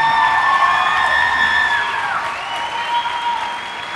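Studio audience clapping and cheering at a comedy show, a loud sustained burst of applause with whoops, while bright tonal jingle sounds ring over it.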